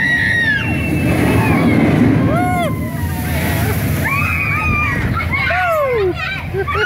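Water sprays and splashes down as the SheiKra roller coaster hits its splash zone at a theme park, a loud rushing slosh amid excited children shrieking and people talking nearby.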